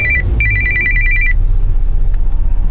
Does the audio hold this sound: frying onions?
no